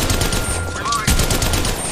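Rapid bursts of automatic gunfire from the mobile video game Apex Legends Mobile fill nearly two seconds, loud and close, with a brief dip in the middle before the shooting resumes hard.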